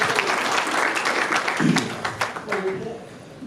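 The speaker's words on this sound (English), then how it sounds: "A round of applause for these people." Audience applause at a live event, steady broadband clapping throughout with a voice speaking briefly over it midway and again near the end.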